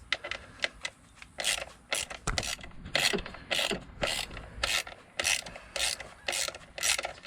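A ratchet socket wrench with a 5/16 socket clicks in repeated short bursts while backing a bolt off a 2011-2014 Ford F-150 EcoBoost engine bay, close and crisp with no talking.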